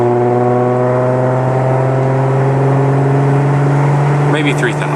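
An Audi S4 engine drones steadily, likely a steady hold near 3,500 RPM with the throttle then lifted, and only a hint of crackle near the end. A loud, even exhaust tone fills the whole stretch, heard from inside the car.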